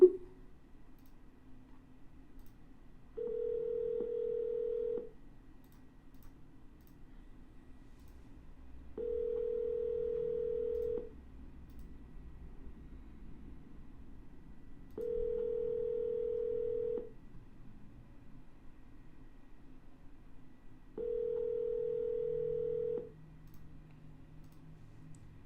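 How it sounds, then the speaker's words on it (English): A telephone ringback tone on an outgoing call that goes unanswered: four steady two-second tones spaced about six seconds apart, clear over a low background hum, with no talking. "No answer, we're gonna double dial."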